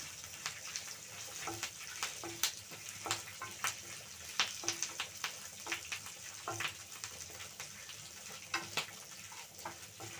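Chillies and curry leaves frying in hot oil in a pan, a close, continuous sizzle dotted with sharp pops and crackles, with no voices.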